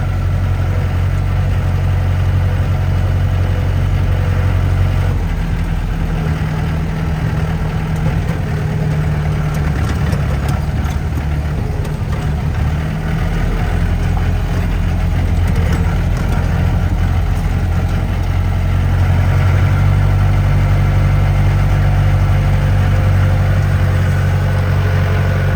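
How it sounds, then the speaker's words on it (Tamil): A vehicle engine labours continuously while driving over a rocky mountain path, a loud, heavy low rumble with rattling and clunks throughout, no talk. "இந்த பாறை கிடுக்குலையும் சந்திலையும் போகும் வண்டி."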